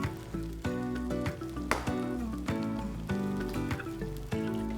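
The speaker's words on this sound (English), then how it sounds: "the pepper, because it's hard, is the first ingredient that I'm putting in the pan" Red sweet peppers fry in a pan with a steady close sizzle, broken by a few sharper crackles and spits that come and go.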